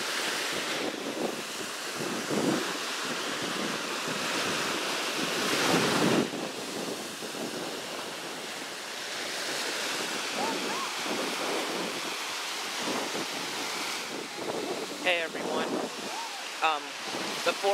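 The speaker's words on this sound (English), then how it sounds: "I just want to apologize for the noise because of the water." Ocean surf rolling onto the beach at Gulf Shores State Park, a continuous wash of breaking waves mixed with heavy wind buffeting the microphone, with faint voices at times.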